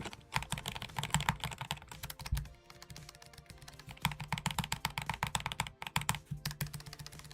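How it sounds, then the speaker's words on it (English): Keycaps on a Haute42 leverless arcade controller being pressed in quick, uneven bursts of light plastic clicks and taps, close and fairly quiet, with a brief pause partway through. "you will hear the keycap, like, here, you hear like a little, like, here, listen to this."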